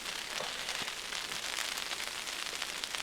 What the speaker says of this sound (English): hopefully this rain doesn't last too long